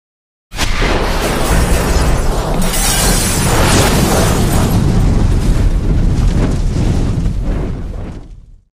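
A bomb bracelet explodes in a car-chase action film: a massive, loud blast that erupts suddenly and roars continuously for several seconds with crashing debris before cutting off.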